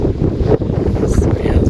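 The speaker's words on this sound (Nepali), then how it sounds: "हावा चलिरहेछ ठुलो" Strong wind blusters across a hillside trail near the Temke view tower, roaring loudly and close into the microphone in uneven gusts.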